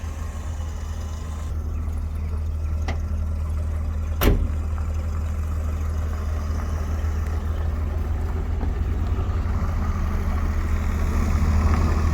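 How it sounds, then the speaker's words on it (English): A Peterbilt truck with a big Caterpillar engine idles at a vintage vehicle event at Scone Palace, Scotland, making a steady, loud low drone that runs unbroken, with one sharp click or knock partway through. "And that's Peterbilt with the cab, with the engine bonnet closed."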